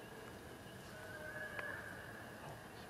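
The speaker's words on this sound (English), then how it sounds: "That's the ghost horse." A horse whinnies at a graveside, a faint, brief neigh rising over steady outdoor background noise, heard alone with no voices.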